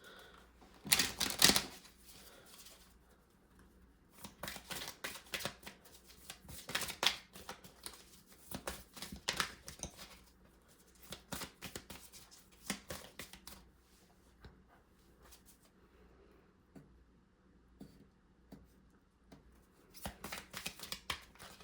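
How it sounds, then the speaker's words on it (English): Tarot cards shuffled by hand, quiet bursts of crisp riffling and flicking that come in irregular clusters with soft pauses between them and no voice. "I'm just shuffling"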